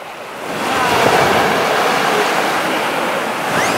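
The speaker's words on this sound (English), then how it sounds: "Sit on the rock and wait for the waves to come to you." Ocean waves break and wash against rocks at a beach on Siargao, a loud, close roar of surf that swells and stays steady, mixed with wind buffeting the microphone and no talk.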